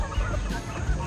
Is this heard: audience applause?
no